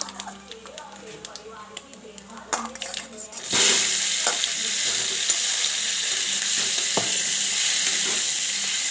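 Cumin, bay leaf and a dried red chilli frying in hilsa fish oil: after quiet kitchen clatter, a loud, hissing sizzle erupts and stays steady and close, with occasional stirring scrapes.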